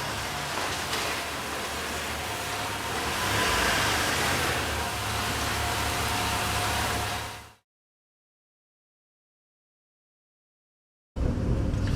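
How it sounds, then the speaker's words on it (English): A 1952 Chevrolet Styleline Deluxe on a test drive: steady engine and road rumble close up for about seven seconds, then abrupt silence before the engine noise cuts back in. "we're taking the 52 Chevy out for a test drive after putting in the gauges"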